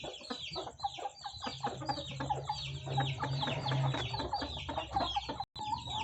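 Aseel chickens clucking repeatedly and busily at close range, a dense run of overlapping short calls from several birds with a low steady hum underneath and a brief cut near the end.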